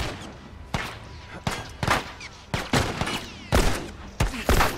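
Gunshots in The Last of Us, a series of sharp, loud single shots spaced roughly every half second to second, each with a short echoing tail, with no talk.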